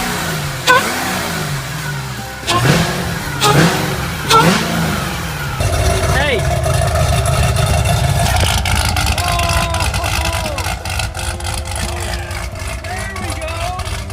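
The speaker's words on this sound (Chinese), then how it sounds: "只见随着发动机的启动，机舱内这台大家伙立即就发出了如野兽一般的咆哮" A rebuilt 2010 Chevrolet Corvette C6 ZR1 engine fires up in a workshop and roars into a loud, sustained growl after a few short bursts, with voices briefly audible before it catches.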